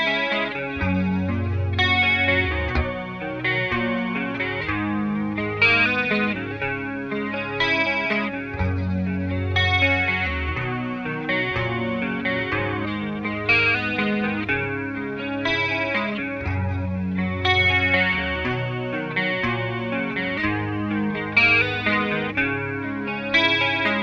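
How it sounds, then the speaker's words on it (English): An electric guitar plays a riff through a distortion effect, sustained chords ringing continuously and loud with chorus shimmer and steady rhythmic picking, alone with no talk. "on the last one, it kicks the distortion on"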